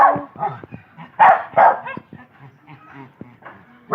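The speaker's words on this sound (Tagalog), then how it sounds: "Kasi may ingay na mga asong to eh." Several pet dogs bark and yip in short, loud bursts close by at home, with a few whimpers between the barks.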